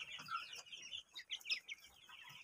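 Chickens cluck and chatter in a quiet, fairly distant flurry of short, overlapping calls on a farm, with no talking.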